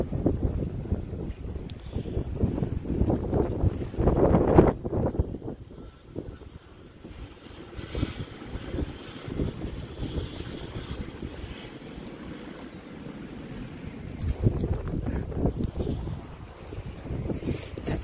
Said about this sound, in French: Bien fort le vent.